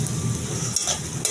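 Potato pieces frying and being stirred in a pan for a Bengali fish curry, with a close, steady sizzle and a couple of quick scraping strokes.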